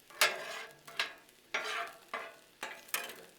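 An egg cooks with Hatch chili and cheddar on a Blackstone griddle, giving soft sizzling broken by about six sharp scraping strokes of a spatula at uneven intervals, close by and with no talk.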